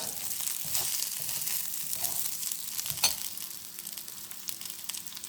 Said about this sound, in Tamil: அதையும் போட்டு எண்ணெயிலே வறுத்துக்கலாம்.